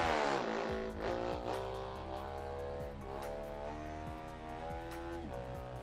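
Honda CRF1000 Africa Twin engine in the RIDE 3 racing game, loud and steady, revving in rising and falling sweeps with a quick shift-like dip, close and continuous with no one talking.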